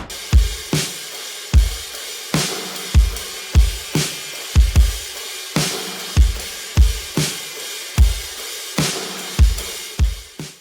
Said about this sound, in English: This is what the drums sound like in this track.